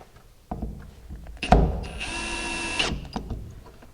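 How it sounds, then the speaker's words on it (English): A power drill drives a screw while a garage door opener is installed, a close whirring burst of about a second and a half after a few handling clicks and a thump. "I'm going to switch to the drill here just to speed it up a little bit."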